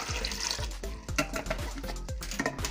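Tap water runs over freshly washed quinces being prepared for quince paste, a splashing, gurgling stream with uneven bursts, close and fairly quiet.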